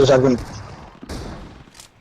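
Shotgun blasts in the video game PUBG during a team deathmatch: a couple of short muffled booms, some distant, heard beneath excited commentary talk.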